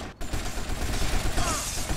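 Assault rifle fire from an AK in GTA Vice City Stories, dense, continuous bursts of close, loud automatic gunfire that carry on without a break for the whole stretch after a short pause at the start.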